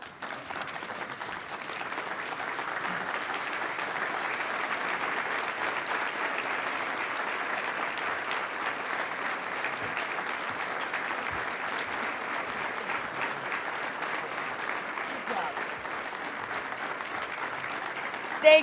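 An audience applauds steadily and evenly to welcome Arizona Governor Janice K. Brewer at a West Valley State of the State address, and the clapping holds for nearly twenty seconds.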